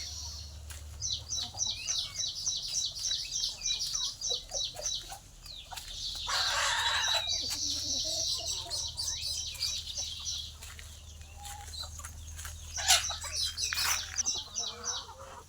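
A flock of around 150 chickens on a natural farm clucks and cackles in repeated rhythmic bursts, mixed with other birds chirping, wing flaps and a low steady hum, moderately near throughout.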